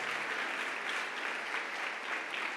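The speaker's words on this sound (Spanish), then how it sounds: "Fuerte ese aplauso." Congregation in a church service applauding to welcome visiting sisters, a continuous fairly soft patter of many hands clapping with no speech over it.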